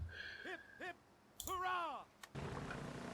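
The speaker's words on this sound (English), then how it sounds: "They're firing from the 3 ships." Ships fire cannons in a Napoleonic naval battle in the strategy game Napoleonic Total War III, with a few sharp distant booms mixed with whistling, swooping game effects and a rushing burst at the end.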